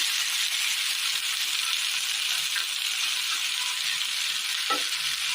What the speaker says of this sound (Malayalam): ഇതിലേക്ക് അരച്ച് വെച്ചിരിക്കുന്ന തക്കാളി ചേർത്ത് കൊടുക്കാം